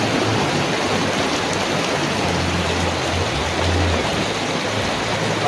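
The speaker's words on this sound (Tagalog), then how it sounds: "tumutulo kasi yung payong guys" Steady rain pours and drips through a leaking umbrella over a street food vendor's stall, a dense continuous patter close by with low splashes underneath and no talking.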